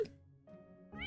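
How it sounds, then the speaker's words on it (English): A cat in the video game Silktrails 2 meows in two short, quiet calls heard alone. "Cat."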